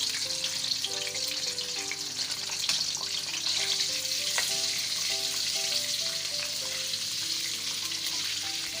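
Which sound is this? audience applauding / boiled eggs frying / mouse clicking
boiled eggs frying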